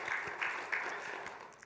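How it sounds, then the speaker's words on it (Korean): A church congregation claps together in thanks to God during a Sunday service, a fairly quiet, brief patter of many hands with a few sharper claps standing out. "우리 다시 한번 하나님께 감사의 박수 한번 드리겠습니다."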